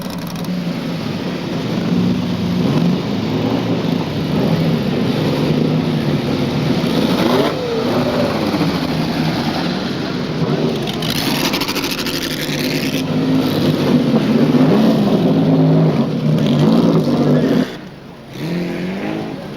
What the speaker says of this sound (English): One of the great shapes of 60s motor racing, the Lola Chevrolet T70 GT.